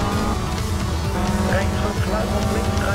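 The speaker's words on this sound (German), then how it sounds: "Okay, Abarth klingt sehr gut," An Abarth rally car engine in the Sébastien Loeb Rally Evo video game revs and growls continuously while driving, loud and up close, with someone talking over it.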